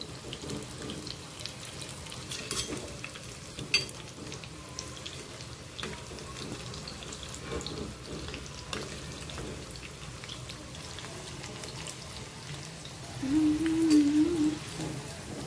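Corn fritters and slit green chilies frying in hot oil, a soft continuous crackle and bubbling, fairly quiet and steady with a brief louder burst near the end.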